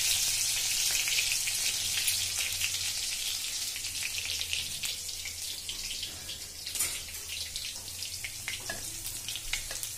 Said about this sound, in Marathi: बघा छान फ्राय करायचे आहे आपल्याला